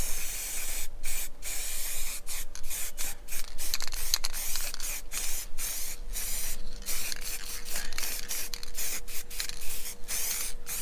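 An aerosol spray paint can hisses in a near-continuous blast broken by short pauses and sputters until it runs empty, used while painting custom radiator mounts in a workshop.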